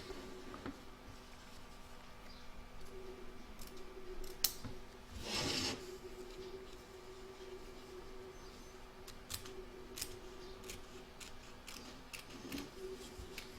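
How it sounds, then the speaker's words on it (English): Scissors snip through layered fabric on an in-the-hoop embroidered coaster, a quiet, sparse series of small close cuts with one louder crunch near the middle. "You're now going to cut away the fabric on the left hand side, but leaving the circle"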